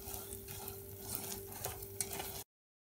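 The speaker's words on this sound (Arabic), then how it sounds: "كمان بحرك تحريك مستمر. بعد ما كبطل السكر هلأ بلش يدوب" Sugar melting in a pan for a chicken sausage dish, stirred constantly with a utensil scraping softly over a faint sizzle, quiet and close with no talk.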